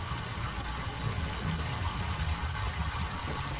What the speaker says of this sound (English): now we can hear the water going through the pipe.